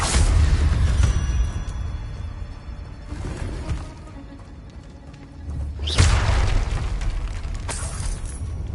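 Confringo blasting spells in Hogwarts Legacy set off a series of booming explosions: a heavy blast at the start, a softer one midway, then a sharp crack and another burst near the end, with low rumbling between them and no speech.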